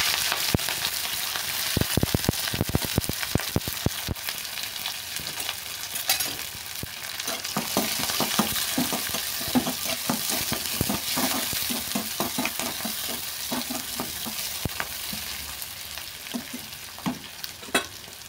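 Chopped onions and green chillies fry in hot oil with kawai fish. A loud, steady sizzle runs throughout, with frequent clattering stirs and scrapes against the pan and no voices.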